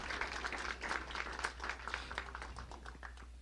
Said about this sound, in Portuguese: Uma salva de palmas para eles, e para Deus,